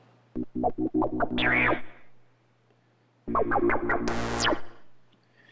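Two bursts of quick staccato notes, each cut off abruptly by a fully wet gated chamber reverb, separated by silence; the second ends in a bright, rising swell.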